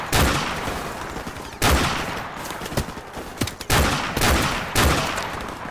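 Rapid bursts of gunfire in the Call of Duty Modern Warfare Remastered Safe House mission, four loud sustained volleys separated by short gaps, heard alone without talk.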